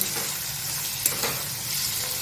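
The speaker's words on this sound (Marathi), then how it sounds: "आता आपण कांदा आणि कोथिंबीर टाकून देऊ" Chopped onion and coriander hit hot tempering oil for upma, giving a loud, steady sizzle with faint stirring scrapes and no talking.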